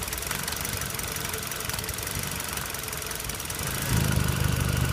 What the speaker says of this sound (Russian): Двигатель будет, конечно, неровно работать с перебоями